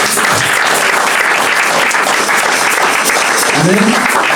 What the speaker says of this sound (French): Acclame encore, acclame.